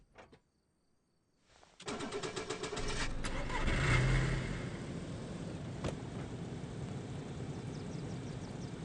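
A car in DayZ on PS5 starts up after near silence, its engine catching and revving to a steady loud drone that swells around the middle and then settles into a constant running hum.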